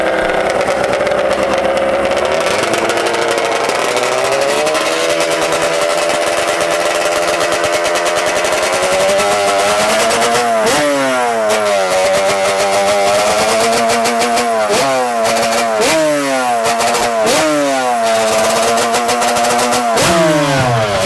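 Yamaha Banshee ATV on Hoosier slick tires, its two-stroke engine loud and close, idling then revving repeatedly in sharp rising bursts with no talk.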